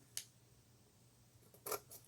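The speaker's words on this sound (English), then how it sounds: "so I'm using these scissors" A pair of household scissors snips cardboard in two quick, crisp cuts, one near the start and a double snip near the end, faint and close over a quiet room with no talking.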